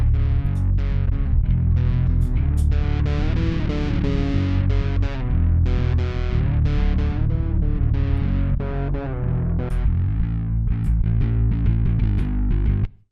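Distorted bass guitar through a Blackstar Unity 700 bass amp, playing a steady run of loud, gritty, sustained notes for about thirteen seconds with a thick chorus-like effect and no talking.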